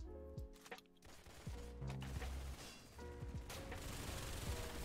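Rapid bursts of video-game gunfire crackle in clusters with sharp reports and brief gaps, a loud, dense fusillade heard alone without talk.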